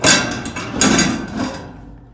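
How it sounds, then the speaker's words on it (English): A metal cover panel comes off a furnace during an inducer motor replacement, giving a loud clank followed by scraping and rattling bumps of sheet metal that die away after about two seconds, with no talking. "Go ahead and unscrew that and remove your cover panel."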